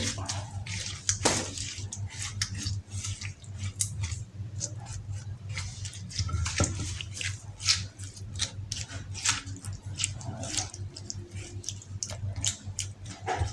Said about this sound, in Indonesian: Nah setelah itu baru kita masukin Royco dan gula pasir. Kita aduk.